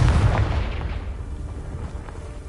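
A Confringo blasting spell explodes in the Hogwarts Legacy video game: a loud, close boom that opens with a sharp burst and then fades into a rumbling tail over a couple of seconds, with no talk.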